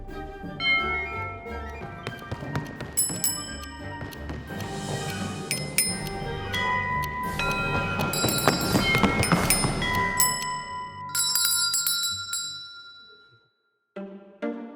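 A servants' bell at Kensington Palace ringing, clear metallic dings and clinks ringing out repeatedly with long shimmering decay, then fading to near silence before a final few strikes.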